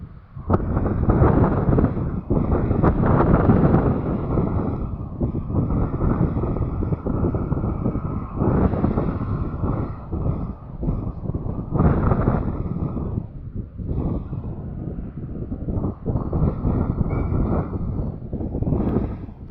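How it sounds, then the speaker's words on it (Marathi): Strong wind blowing across a cotton field, a loud, continuous blustery roar buffeting the microphone with surging gusts throughout. "वारं सुटला आहे वाऱ्यानं मोड हालत आहेत"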